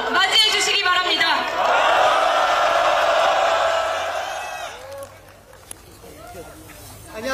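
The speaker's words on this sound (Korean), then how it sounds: "여러분이 세 분을 큰 박수와 함성으로 맞이해 주시기 바랍니다" Crowd at a Democratic Party political rally cheering and applauding loudly for three regional committee chairs, a dense roar of clapping and shouts that fades out after a few seconds, then quieter murmuring and a voice.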